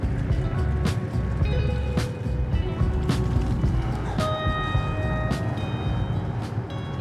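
Polygon Siskiu T6E trail e-bike ridden outdoors in boost mode, a steady, loud broadband rush of motion and wind noise with faint whining tones and occasional sharp clicks throughout, no talking.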